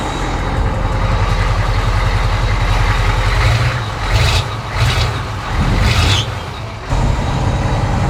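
Diesel engine of a 1991 AM General M998 HMMWV idling with a loud, steady low rumble, broken by a few short hissing bursts before the idle settles again.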